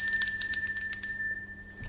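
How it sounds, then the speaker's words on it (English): A small hand bell rings repeatedly with a sustained bright metallic tone, struck several times in a steady rhythm before the ringing fades out, close and clear with no talking. "So I'll be ringing my bell in that case"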